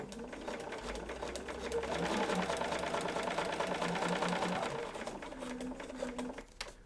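A sewing machine stitches across a quilt block for an Alison Glass Trinket sew-along, running as one steady, close, rattling hum for several seconds with no talk.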